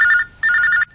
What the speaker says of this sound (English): What's that, the room phone?